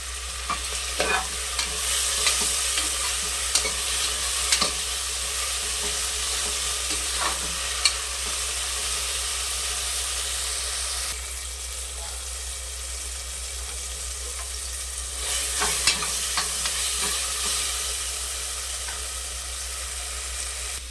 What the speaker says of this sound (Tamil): போட்டு நல்லா கிண்டி விட்டுக்குருவோம் உப்பு கொஞ்சம் போட்டுக்கலாம்